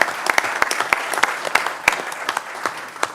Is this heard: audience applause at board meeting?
yes